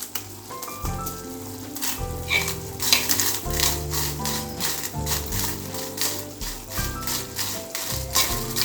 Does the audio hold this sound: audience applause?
no